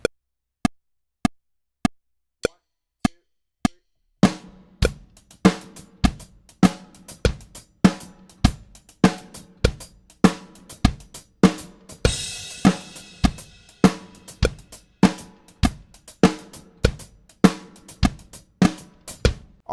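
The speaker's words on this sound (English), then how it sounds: "This is where we're going to start to align the kick and the snare with that new ride pattern." A drum kit plays a 3/16 accent pattern, opening with sparse evenly spaced ticks before kick and snare join a busy ride cymbal line, with a brief cymbal wash midway, loud and close with no voices.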